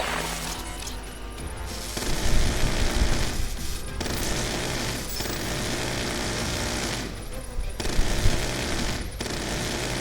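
A turret machine gun in the Call of Duty Black Ops 2 video game fires loud, sustained rapid bursts with brief pauses between them, dense and close throughout.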